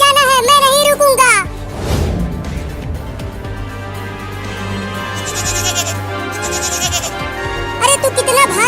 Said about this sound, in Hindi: अरे रुक जा बकरी का बच्चा, उधर मत जा।